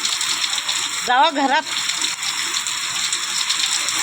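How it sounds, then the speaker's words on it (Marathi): Heavy rain pours outside in a dense, steady rush of noise through the whole stretch, with a brief spoken phrase partway through. "खूप पाऊस आला आहे आणि खूप म्हणजे खूपच पाऊस आहे"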